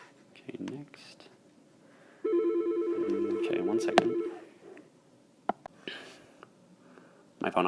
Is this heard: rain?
no